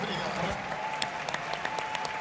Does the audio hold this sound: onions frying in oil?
no